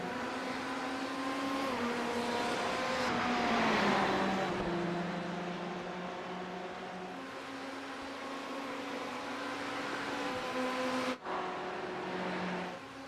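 Race cars in a sim racing game roar down the Road Atlanta backstretch in a pack, with steady, loud engine drones and shifting pitches from several cars running close together, with a brief dip near the end.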